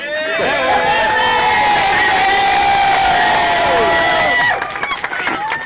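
A protest crowd after the FBI arrest of a Milwaukee County judge roars with loud, sustained cheering and whooping, dense voices layered over one another, thinning abruptly near the end into scattered shouts.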